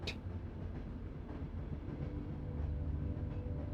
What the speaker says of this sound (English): The rumbling grows louder as the train chugs closer to the station.